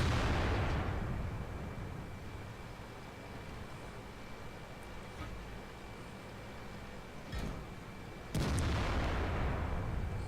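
Tank cannon shots in World of Tanks, a T-34 firing: a deep boom opens over steady low battle rumble, a smaller crack follows midway, and another heavy blast lands near the end.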